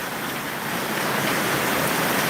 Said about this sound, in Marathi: मध्ये मोठमोठे गा गारा पडत आहेत खूप मोठमोठे असे बर्फाचे खूप मोठे गोळे पडत आहेत